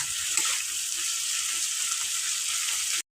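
Onions frying in a pan, a steady close hiss of sizzling oil with faint stirring touches, ending in an abrupt cut.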